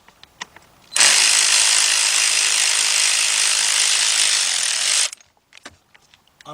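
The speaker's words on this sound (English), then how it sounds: "So I got a 7mm deep 3/8 drive with my cordless impact." A cordless impact wrench fitted with a 7mm deep 3/8-drive socket runs in one long continuous burst of roughly four seconds, loud and close, pulling out valve cover plug bolts on a Trailblazer-family engine, with faint handling clicks before and after.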